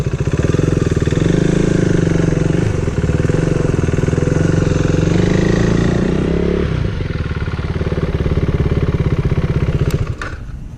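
A KTM motorcycle engine drones loudly and steadily up close as the rider downshifts with the clutch, the pitch dropping partway through before it fades slightly at the end; no talking.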